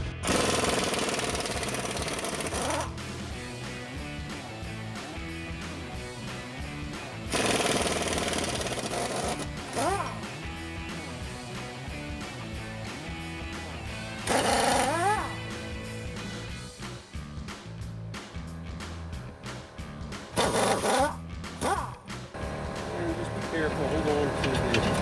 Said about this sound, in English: So we're going to remove the 4 U-bolts.